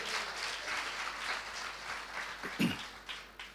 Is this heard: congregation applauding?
yes